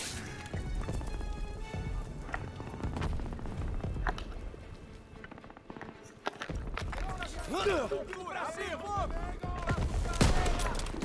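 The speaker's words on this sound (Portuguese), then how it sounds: "Só vi de onde vinha o tiro e atirei de volta" Bursts of gunfire from the Call of Duty: WWII campaign crackle among footsteps and other effects, with a brief rapid volley near the end; a voice talks throughout.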